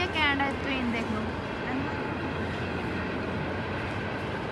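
A freight train rolls past in the Canadian Rockies near Lake Louise and Banff, a steady, loud rumble and clatter of wagons holding for the whole stretch, with a voice heard briefly at the start.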